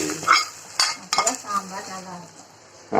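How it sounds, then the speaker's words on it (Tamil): Hot tempering poured into sambar in a pot, a sharp sizzle with clinks of a metal vessel and spoon against the pot, close and brief. "சாம்பார்ல ஊற்றும் போது சொயின்னு சத்தம் வரணும்."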